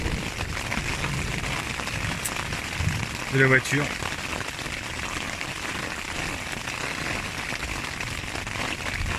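Rain patters steadily on a tent pitched during a multi-day hike near Sixt Fer à Cheval, a dense close drumming, with a brief spoken phrase partway through.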